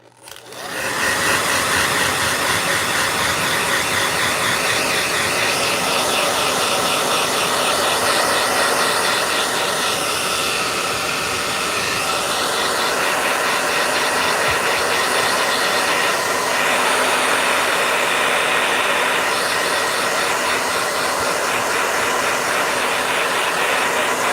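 A blow dryer runs steadily and loudly, a constant airy roar with a faint whine that starts abruptly and holds without interruption for over twenty seconds, no voices.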